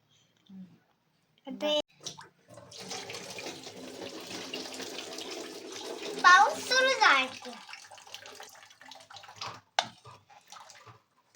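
Tap water runs and splashes over freshly cleaned crabs during crab biryani preparation, a steady flow with clattering handling noises, while adults and someone talk over it.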